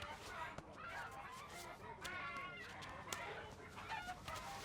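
A live chicken clucks faintly in a Tamil film scene, short squawks and clucks scattered through a low, busy background of voices and movement.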